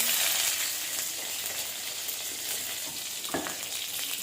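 Cumin and mustard seeds sputter in hot ghee for a tempering, giving a steady crackling sizzle that eases slightly, with a brief stir or clink near the end and no talking.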